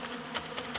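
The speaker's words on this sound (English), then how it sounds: "These bees are in this open feeder." Honey bees buzz in a steady, dense drone around an open feeder in early spring, close and continuous, with a few brief swells as individual bees pass nearer.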